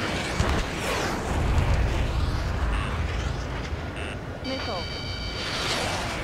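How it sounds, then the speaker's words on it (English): In a flight combat video game, an enemy missile streaks past with a rushing roar that swells and fades, under a busy layer of game sounds, warning beeps and voices. "Enemy missile evaded."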